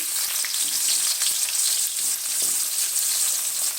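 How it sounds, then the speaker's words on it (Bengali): Onions sizzle steadily in a pan at the start of a noodle dish, a loud, dense frying hiss throughout with faint stirring taps. "তো আমি প্রথমে এখানে পেঁয়াজ দিয়ে দিচ্ছি"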